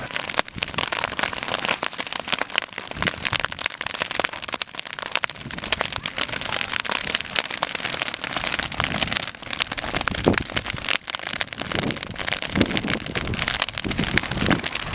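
A controlled burn of prairie grass crackles and pops continuously, with dense, bright snapping like rain or firecrackers, steady and fairly loud throughout with no voices.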